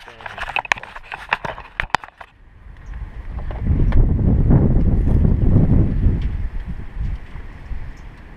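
Strong wind gusts roar across an outdoor microphone during a driveway oil change on a 2004 Cadillac Deville, with a few sharp clanks early on before a sustained, loud rumbling buffeting takes over.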